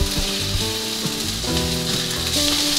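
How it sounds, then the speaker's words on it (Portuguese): Homemade chicken burger patty frying in oil in a pan, with a steady bright sizzle running throughout and soft lower clinks and tones scattered underneath, no voices. "colocar um pouquinho de óleo para poder fritar o nosso hambúrguer caseiro"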